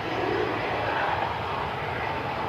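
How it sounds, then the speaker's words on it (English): A Hawker private jet's engines roar steadily at Cleveland Hopkins airport as it moves toward the runway, a broad, constant rushing drone at moderate distance with no breaks. "We have a couple of private jets taking a runway. It looks like a Hawker."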